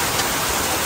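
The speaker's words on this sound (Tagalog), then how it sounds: "so grabe ang ulan" Heavy rain pours in a dense, unbroken hiss, loud and close, with no gaps or voices across the short moment.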